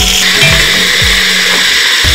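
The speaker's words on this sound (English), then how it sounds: "You can see after blending my onions, my two onions" A blender whirs loudly and continuously as it purees two onions, a dense steady motor drone with slight pitch wobbles throughout.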